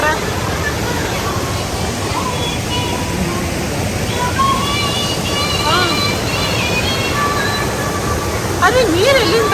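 Bhatta Falls in Uttarakhand roars steadily as a constant rush of falling water, with people chattering and a voice rising over it.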